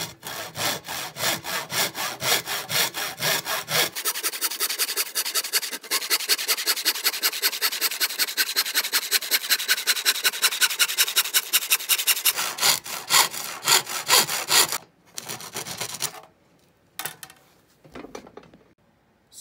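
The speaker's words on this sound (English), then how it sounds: "So now I'm going to cut 4 3-inch sections out of this dowel." A hand saw cuts through a wooden dowel in fast, even back-and-forth strokes, close and loud, its rhythm shifting midway before the final strokes break off into short scrapes and silence.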